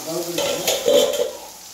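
Spices and pumpkin stalks frying in a pan, giving a steady close sizzle with a few stirring scrapes and no voices.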